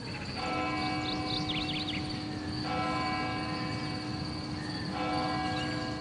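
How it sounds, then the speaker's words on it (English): Bells chime before a tennis match in the Top Spin 4 video game on Wii, layered ringing tones with sustained metallic overtones and a few higher tinkling notes, steady and moderately loud with no talking. "I do like that the bells chime for my opponents before each match"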